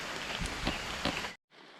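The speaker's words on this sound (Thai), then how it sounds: "แต่ฝนก็ยังตกอยู่นะครับ" Steady rain falling in a forest in Karen State, Myanmar, a dense continuous hiss of drops close by with a few louder patters, cutting out briefly near the end before resuming.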